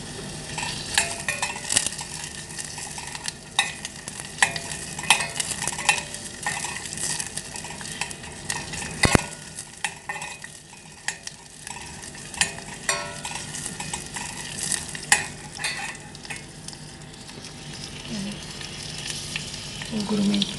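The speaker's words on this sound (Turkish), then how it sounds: "Ocağa alalım. Önce soğanımı katıyorum." Chopped onion sautéing in about a tablespoon of olive oil in a pot on the stove gives a steady, soft sizzle for about twenty seconds, with occasional utensil scrapes and clinks as it is stirred.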